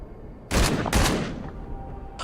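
Two sharp, loud gunshots ring out close together, each with a booming echo that trails away, followed by a faint third report at the end; no talking.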